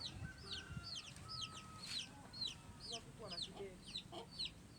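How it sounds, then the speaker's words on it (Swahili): Chickens cluck in a coop on a small farm where Newcastle disease has broken out. The rapid repeated clucks and squawks come close and fairly loud over a constant rustling background. "Banda la kuku hilo?"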